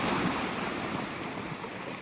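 Big ocean waves of salt water crash and surge nearby, a loud, continuous roaring wash mixed with wind rumble, and no one talks.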